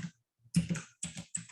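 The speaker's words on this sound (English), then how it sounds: "I'm going to type in SEO" A few quick bursts of computer keyboard typing, short clusters of clicky keystrokes separated by brief pauses, close and fairly quiet with no talk.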